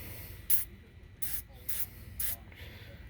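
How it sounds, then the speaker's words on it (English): A spray can gives four short, sharp hissing bursts at close range onto the wheel bolts and hub of a 2014 Ecodiesel truck, with brief pauses between them. "So that way we can spray our bolts down and spray our hub down"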